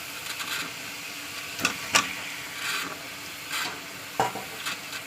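Pieces of magur catfish go into hot oil with spiced masala, which has been cooking until the oil separates. Steady sizzling and hiss are broken by several sharp scraping stirs, close up, with no talking.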